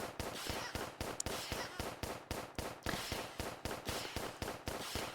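Rapid, evenly spaced gunshots in a Roblox game fire as a steady series of about three sharp cracks per second, loud and close, with no pauses for several seconds.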